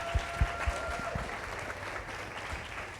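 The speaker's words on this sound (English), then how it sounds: "Round of applause" An audience claps through a sales masterclass workshop, a steady dense patter of applause with a few low thumps near the start, fairly distant and even throughout.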